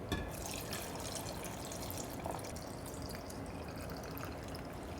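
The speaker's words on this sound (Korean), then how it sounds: "물을 만들어 놨던 유자 단식초를 부어줍니다." Yuzu sweet vinegar being poured over salted radish in a container for pickling, a steady close liquid splash and trickle that runs continuously with no talk.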